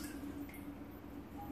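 Cool water mixed with rennet trickles over a slotted spoon into goat milk for chevre, a soft steady dripping and splashing with no voices.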